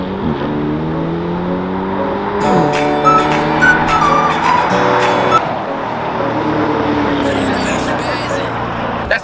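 Street race between a Tesla and a Lamborghini: a loud engine revs and climbs through several gear changes as a car speeds past close by, with the roar staying strong and shifting pitch, plus tire and road noise in the background.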